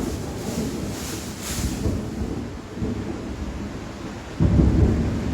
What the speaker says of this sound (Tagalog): Nakakatakot naman ng kidlat.